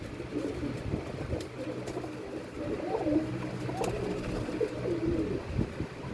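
Pigeons coo with soft, low, throaty calls repeating through a steady murmur of background noise and rustling, fairly close, with no clear voices over them.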